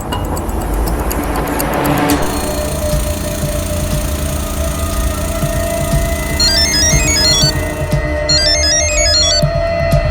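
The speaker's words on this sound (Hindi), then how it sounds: "ये रमन फोन ही नहीं उठा रहा है" A phone ringtone chirps repeatedly over a loud, steady engine-like rumble, ringing on without being answered.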